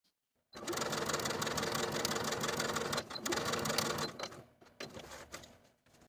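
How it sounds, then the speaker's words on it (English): A sewing machine runs basting stitches from notch to notch along the top of a dress sleeve with a half-inch seam allowance, whirring steadily for a few seconds before slowing into shorter stop-start bursts and falling quiet. "Now we're going to sew basting stitches from notch to notch along the top of the sleeve."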